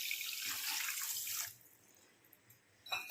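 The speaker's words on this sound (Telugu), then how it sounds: "ఒక కప్పు వాటర్." A cup of water poured into a pan for a wheat-flour and sugar sweet makes a loud, close, splashing gush for about a second and a half, then stops, followed by a faint clink.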